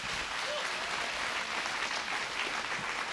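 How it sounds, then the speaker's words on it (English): An audience at a community scholarship awards ceremony on Vashon applauds, a dense, steady wash of clapping that holds evenly throughout with no break. "Let's give families. them all a round of applause."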